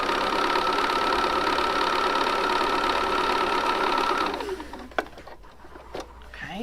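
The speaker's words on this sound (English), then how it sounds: "I'm going to sew down the other side of that line." A sewing machine stitches along a line on fabric for half square triangle quilt pieces, running steadily and loudly for about four seconds before stopping, followed by a few soft handling clicks.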